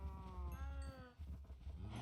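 Cows moo in a modded Minecraft game. Several drawn-out, low moos overlap and follow one another over about two seconds. The calls are fairly faint and there is no talking.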